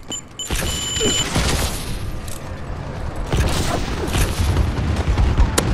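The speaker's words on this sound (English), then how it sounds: "Friendly bombing run incoming." Bombing-run explosions in Call of Duty: Advanced Warfare Exo Survival mode roll on as a loud continuous rumble of booms and crackling blasts, with mechanical game effects layered through it and no talking.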